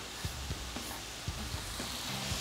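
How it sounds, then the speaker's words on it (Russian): Forest mushrooms fry with onion in a pan, giving a steady, faint sizzle with a few soft knocks from the pan. "Вот, прямо с лучком обжариваем. Сейчас они еще жарятся"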